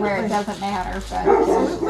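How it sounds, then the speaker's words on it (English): A dog barks and yips in a home setting beneath a woman's close, continuous chatter, the short barks sounding somewhat muffled and partly masked by the talk. "Oops, sorry about the dog."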